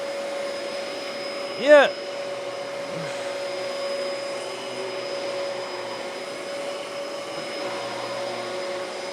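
A thrifted Dyson vacuum cleaner runs steadily on low pile carpet, a continuous close whine with a strong tonal hum, briefly joined by a short voice.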